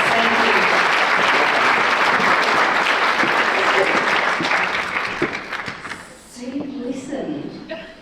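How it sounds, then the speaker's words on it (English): A conference crowd at a disability-sector summit applauds its panelists, a loud sustained round of clapping that fades after about six seconds into murmured voices and light laughter. "Big round of applause for our panelists."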